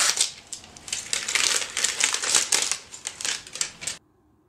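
Crinkling and crackling of a plastic tube package being opened for a Barbie mermaid doll, a run of close, irregular rustles and snaps that stops abruptly, leaving near silence.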